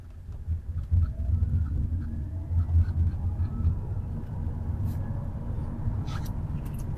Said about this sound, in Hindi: वो कहते हैं कि गाड़ी में एक हमिंग साउंड है जब हम गाड़ी को 30 के ऊपर लेके जाते हैं।